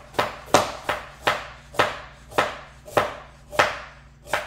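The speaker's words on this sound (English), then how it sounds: "when I am prepping my parsnips, I'll cut off the bottom end, the thinner end, and just" A kitchen knife chopping parsnips on a cutting board, eight crisp, evenly spaced knocks each with a short ringing tail, close and clear with no talking.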